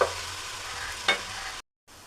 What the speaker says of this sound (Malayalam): ഇഞ്ചിയും വെളുത്തുള്ളിയും പച്ചമുളകും കൂടെ ചതച്ചതാണ്. അത് അങ്ങോട്ട് ഇട്ട് കൊടുക്കാം.